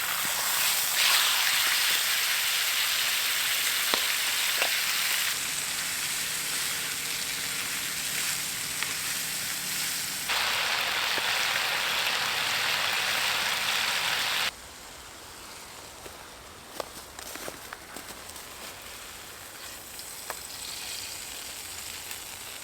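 Steak sizzles steadily in a pan over a lightweight, paper-thin camping stove outdoors, a continuous close frying hiss that shifts in level partway through, with a few faint clinks.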